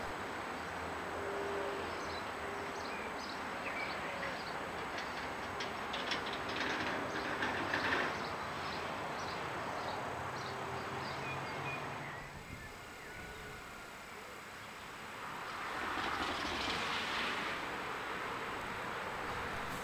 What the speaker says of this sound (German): Ich habe den Eindruck, dass der Zug da hinten schon wieder langsamer wird